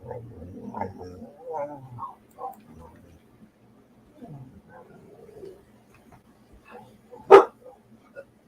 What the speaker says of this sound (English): these dogs are going to drive me crazy